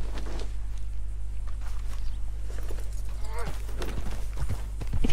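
Horse hooves clip-clop in the video game Red Dead Redemption 2, a steady walking rhythm under continuous low game ambience, with a brief voice near the end.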